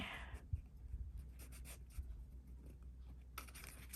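A pen writes in a reading journal, soft scratchy strokes in short clusters, close and faint in a quiet room.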